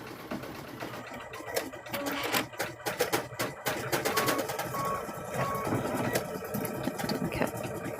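A close embroidery machine sews a placement stitch for Christmas ornaments, a continuous whirring drive broken by rapid rhythmic needle ticks and a few short beeps, with no talking.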